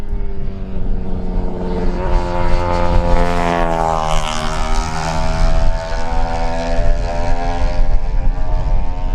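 A Honda race motorcycle in a Lightweight road race approaches, its engine note loud and continuous, with rising, sweeping harmonics as it draws nearer and passes close.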